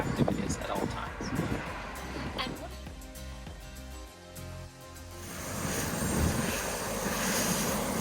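A tour helicopter in flight over Darkwood Beach and the west coast of Antigua, bound for Montserrat, its steady rotor and engine drone continuous throughout and swelling louder in the second half, with a voice talking over it early on.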